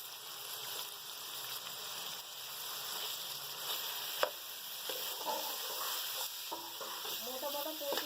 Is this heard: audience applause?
no